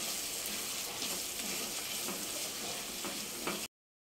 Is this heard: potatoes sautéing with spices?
yes